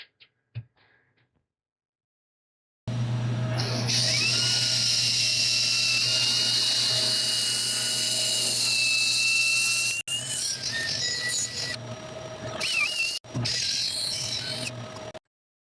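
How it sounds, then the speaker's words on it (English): A continuous whirring sanding hum on a turned acacia wood bowl, with a high, steady whine, runs for about twelve seconds, with a couple of brief drops and shifts near the end. "All right, time to sand and finish."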